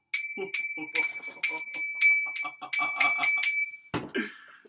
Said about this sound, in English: That's a bell.